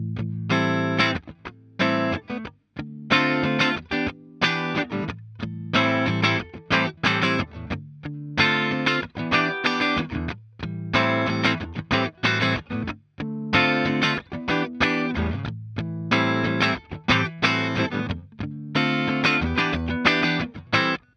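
A clean electric guitar through a Fender Twin Reverb tube amp plays a repeating rhythmic chord pattern, full-bodied and steady, with no voices.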